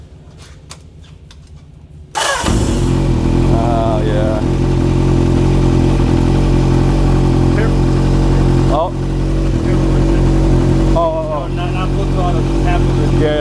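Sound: motorcycle engine with aftermarket exhaust

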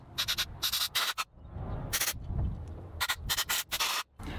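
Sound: compressed air blowing out a Marvel Schebler carburetor

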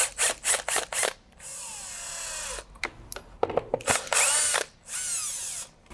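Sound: power drill removing screws from window coil

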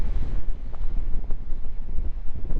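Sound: strong wind and crashing waves at Deoksan beach

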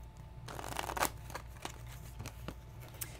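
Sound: shuffling a deck of Flesh and Blood trading cards

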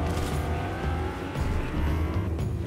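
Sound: car driving in Fortnite video game

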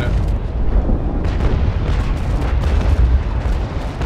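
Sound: cannon fire boom in a pirate naval video game

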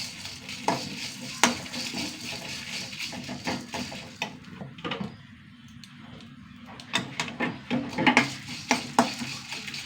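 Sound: dry red chillies and coriander seeds roasting in a pan

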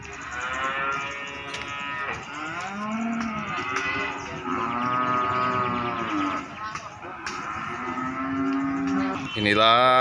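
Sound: cattle mooing at a livestock market

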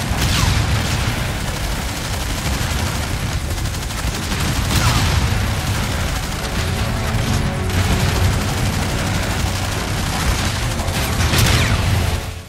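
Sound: gunfire in the video game Call of Duty Infinite Warfare

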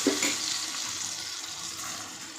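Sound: dried red chilies crackling as they fry in hot oil

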